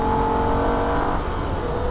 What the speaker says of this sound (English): Upshift to third gear, keep it flat through this section.